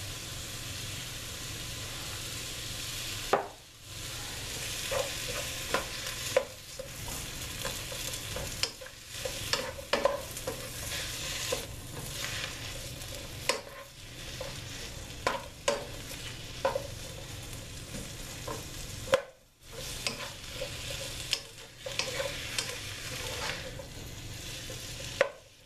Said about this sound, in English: I'm just going to get these to saute just a little bit in the olive oil.